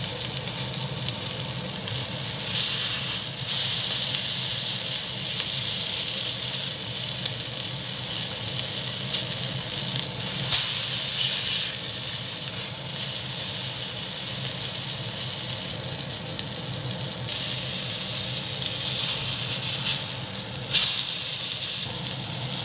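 Steak searing over a high-heat gas stove, a loud, steady sizzle and hiss of frying fat that carries on continuously with occasional spitting pops.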